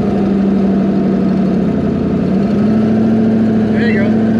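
A 1200 hp twin turbo Ford Mustang on the street runs with a loud, close engine drone whose pitch holds steady, then rises slightly as it pulls, with a voice over it.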